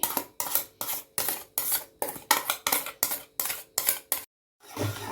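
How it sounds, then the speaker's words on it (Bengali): Pudding batter being whisked hard in a bowl, with a steady rhythmic scraping and clinking of utensil against the bowl, about a dozen even strokes, a brief pause, then more mixing. "ভালো করে ফেটিয়ে নিচ্ছি"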